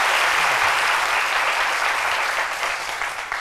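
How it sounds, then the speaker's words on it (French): Audience applause fills a room at a live French stage show, a thick continuous wash of clapping that holds steady and then gradually tapers off toward the end. "ah d'accord, des applaudissements, merci beaucoup"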